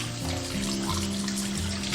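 Tap water running steadily while a grass carp is washed, a close, even rushing stream with no break.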